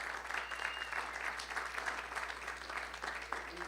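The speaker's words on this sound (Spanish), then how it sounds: "Denle una ofrenda de palmas al Señor." A church congregation gives sustained, even applause, a dense wash of many hands clapping at once, heard from a moderate distance across the room.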